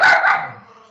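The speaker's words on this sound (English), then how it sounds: "Oh, and the dog." A dog gives a single sharp, loud bark up close that fades quickly into quiet.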